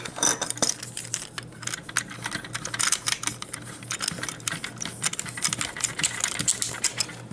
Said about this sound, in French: On a le bras, on insère la vis. On vient visser le bras